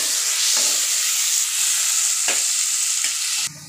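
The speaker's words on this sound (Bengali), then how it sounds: "পেঁয়াজ বেরেস্তা হয়ে গিয়েছে আমাদের।" Onions frying to a golden crisp in a pan for mutton curry: a loud, continuous sizzle broken by a few quick spatula scrapes, stopping abruptly at the end.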